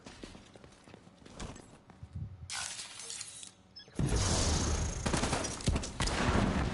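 Explosive detonation and gunfire in The Division 2 on PS5: scattered cracks and a sharp burst near the middle, then a loud, sustained roar of blast and rapid fire through the last few seconds.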